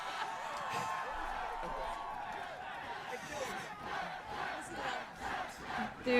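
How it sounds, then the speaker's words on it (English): A large crowd chants in rhythmic, repeated shouts, rising and falling in waves, heard from a distance with voices talking close over it. "Listen to them chanting death."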